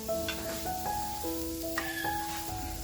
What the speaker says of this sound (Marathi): कांदा भाजत टाकलाय. मटणाच्या रश्यासाठी कांदा खोबरं टाकतो, ही वेलची टाकली, लवंगा टाकल्या